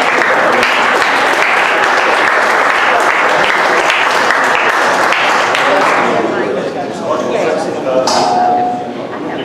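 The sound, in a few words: round of applause for presenter David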